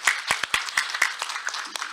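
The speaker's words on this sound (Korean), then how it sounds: "박수 한번 주시기 바랍니다" A conference audience gives a round of applause after an opening leadership session talk, scattered individual claps ringing out sharply at first, then settling into a thinner patter.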